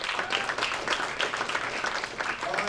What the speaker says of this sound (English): round of applause for Go-Birds